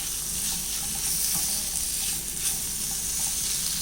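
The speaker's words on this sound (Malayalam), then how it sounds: "ഇതെല്ലാം കൂടെ ഒന്ന് ഇളക്കി മിക്സ് ചെയ്തെടുക്കാം" Tomato and egg masala being stirred in a frying pan, a steady close sizzle with soft scraping and stirring noises running continuously, no talk.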